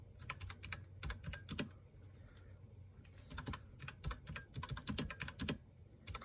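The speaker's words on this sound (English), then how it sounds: "Let me type in this title," Close-up typing on a computer keyboard while entering a title, with irregular runs of crisp key clicks in quick bursts and short pauses, and no talking.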